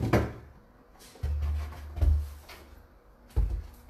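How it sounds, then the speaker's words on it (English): A wooden drawer is pulled out of a cabinet, with a few hollow thumps and knocks, a scraping slide, and a final bump, all close and fairly loud with no talking. "Let me get my last drawer out of here."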